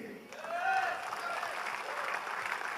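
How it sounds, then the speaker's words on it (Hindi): Audience applause ringing out in a hall at a Health Guard rice bran oil launch event, a steady wash of clapping that swells and holds, with a voice tone rising briefly over it. "मैं चाहूंगा कि आप सब लोग अपने लिए एक बार जोरदार तालियां बजाएं"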